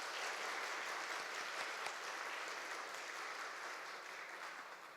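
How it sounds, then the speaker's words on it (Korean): Church congregation applauding to welcome home a young man back from studying in Australia, a dense steady roar of many hands filling the room for five seconds and easing slightly at the end, with no voices over it. "박수로 환영하겠습니다."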